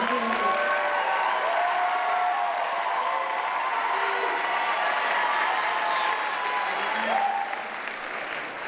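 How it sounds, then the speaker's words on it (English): An audience at the 2018 Mrs. Colorado pageant applauds award winners with sustained, dense clapping and a few cheers. Music plays faintly underneath and the applause fades slightly near the end. "give them a round of applause"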